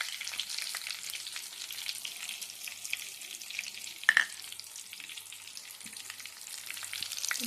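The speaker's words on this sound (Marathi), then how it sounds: "अशा प्रकारे तेलामध्ये चांगली फ्राय होऊन द्यायचं आहे" Stuffed brinjals fry in oil, making a quiet, steady sizzle with a few faint scrapes and one short sharp clink partway through, and no one speaking.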